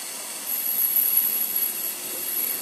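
Steam hissing from a leak on an overheating food truck engine, a steady broad hiss that swells in after a moment and holds, fairly loud and close, with no voices.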